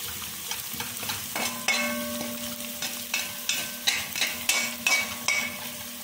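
Finely ground spices fry in a pan for a mixed vegetable curry, giving a close, crackling sizzle broken by a run of sharp taps and scrapes as the pan is stirred.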